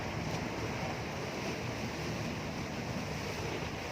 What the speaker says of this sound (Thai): ได้ยินเสียงคลื่นไหม